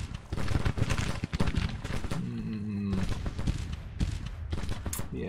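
Gunfire in a Grand Tactician Civil War battle in the woods, rattling in repeated scattered volleys mixed with other game noise, a brief tonal sound mid-clip, no voice heard.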